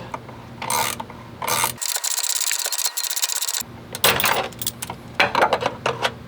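A wrench tightens a nut to compress two bushings during an Ironman 4x4 front control arm install on a 5th gen 4Runner, a close, loud run of ratcheting and grinding clicks in several bursts.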